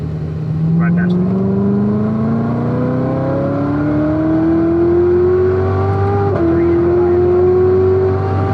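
A 2019 Corvette ZR1 on the back straight at Spring Mountain: a loud, close engine note climbs steadily in pitch under hard acceleration, with a brief break for a gear change near the end before it pulls on.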